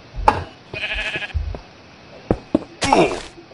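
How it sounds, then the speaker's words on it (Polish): Sheep bleating in the Minecraft video game, several short nasal bleats in an uneven sequence, loud and close, with a few clicks and small game noises between them. "owca chce nas odwiedzić"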